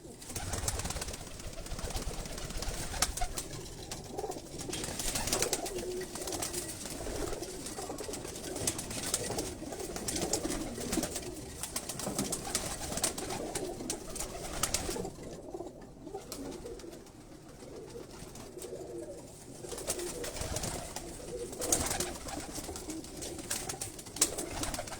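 Pigeons cooing on a rooftop loft in Karachi, repeated soft throaty coos layered over one another with flutters and bird calls, continuous and close, with no talking.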